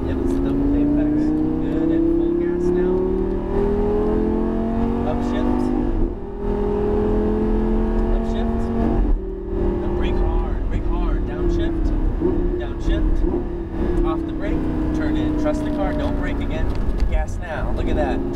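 A Lamborghini Gallardo at full throttle on the Las Vegas Motor Speedway track, its engine note climbing steadily through the gears in loud, continuous sweeps, with brief dips at each shift and a voice talking over the roar.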